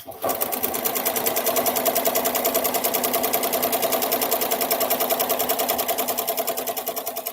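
A sewing machine runs fast and nonstop while stitching a patriotic flag quilt, producing a close, loud, evenly pulsing mechanical hum with a rapid needle rhythm.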